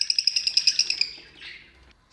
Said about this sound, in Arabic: الفريخات كانوا كيغوتوا بزاف